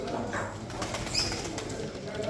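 Pigeons at a bird auction coo and rustle faintly amid a steady crowd murmur and indistinct voices, the bird sounds soft and partly masked.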